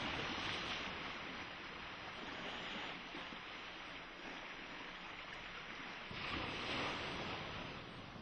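Rough ocean waves pound a small coast near Posyet, Russia, making a continuous, dense roar of surf with gusty swells that rise and fall, heard alone with no voices.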